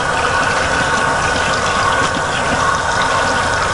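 Tap water running steadily to rinse cuticle remover off hands during a manicure, a loud, close, continuous rushing hiss with no breaks and no talking.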